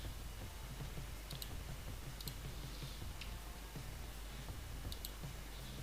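Computer keyboard arrow keys pressed repeatedly while nudging objects in Tinkercad, a few faint sharp clicks spread over several seconds against a low steady background hum.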